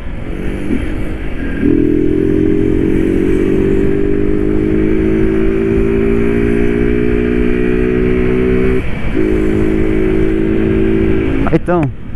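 A lowered Honda Titan 160 motorcycle riding close by, its engine holding a steady droning tone with brief shifts in pitch, ending with a quick rev, loud and continuous throughout.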